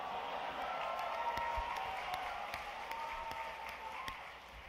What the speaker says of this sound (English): What are you clapping about?